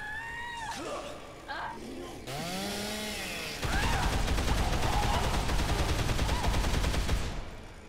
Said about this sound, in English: She's really chasing me with the chainsaw.